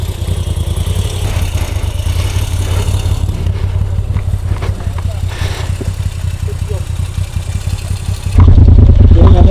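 A road motorcycle rides on a gravel track. Its engine holds a steady, loud mid-pitched drone with rough clattering texture and a louder surge near the end.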